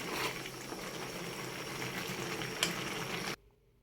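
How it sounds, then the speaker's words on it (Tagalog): Boiled spaghetti is drained, water rushing and splashing out steadily, close and loud, before stopping abruptly near the end. "tapos na po natin i-drain yung ating pasta"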